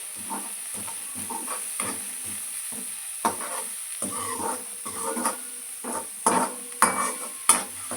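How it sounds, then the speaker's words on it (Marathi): Spice masala stirred through a pan with garlic sizzling in it, a steady frying hiss broken by repeated scraping strokes of the spoon that grow sharper toward the end, close and alone with no talk. "पूर्ण मसाल्याचं मिक्स करून घेणार आहे मी"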